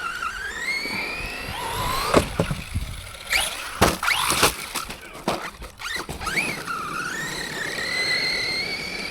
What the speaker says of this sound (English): So I don't really think this truck really likes going off this KCRC ramp.